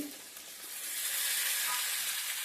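Onions, tamarind and curry leaves sautéing in a pan for onion chutney; a steady hissing sizzle that swells after the first second and stays even, with no talking.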